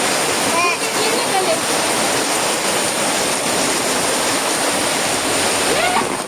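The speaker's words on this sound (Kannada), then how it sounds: "ಈ ಇಲ್ಲದ ಮೂಜಿ ಸುತ್ತಲ್ಲ ನೀರು ಬೈತೀನಿ ಒಂಜಿ ಸುತ್ತ ಮಾತ್ರ ಕಮ್ಮಿ ಆಯ್ತೀನಿ" Heavy floodwater from torrential rain rushes around a house, a steady, loud broadband roar of flowing water with no pauses, close and continuous throughout.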